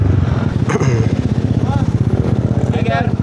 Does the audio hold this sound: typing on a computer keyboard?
no